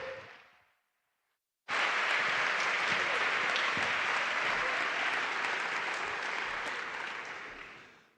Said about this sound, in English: huge round of applause to welcome Jaume